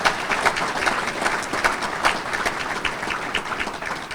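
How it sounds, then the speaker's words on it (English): Steady applause from an audience at a mayor's State of the City address, many hands clapping in a dense, even patter that holds for several seconds without pause. "Big round of applause."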